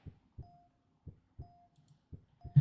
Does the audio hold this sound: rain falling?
no